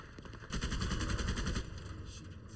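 In the video game Mewgenics, submachine guns fire in a dense, continuous rattling burst of rapid shots, loud and close, then trail off into a lighter patter.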